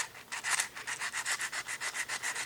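Rapid, rhythmic scratchy strokes of sandpaper rubbing a small plastic fishing lure, about seven strokes per second, close and steady.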